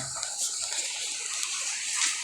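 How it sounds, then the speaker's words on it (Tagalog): Rainwater leaks and drips during heavy rain, heard as a steady bright hiss of falling and splashing water with faint scattered drops, close and continuous, with no talking. "Oh, tumutulo na siya o."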